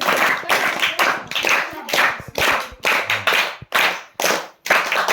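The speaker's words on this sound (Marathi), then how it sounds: "टाळ्या वाजवूया त्याला" A group claps to welcome a student speaker at a school speaking activity, in steady bursts of close, dense hand claps with short pauses between them.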